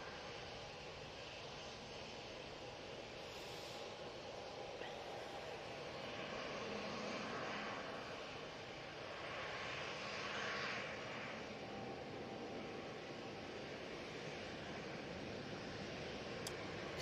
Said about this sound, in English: Jet2 now on the roll. Oh, it's off to Barcelona using the A321 Neo.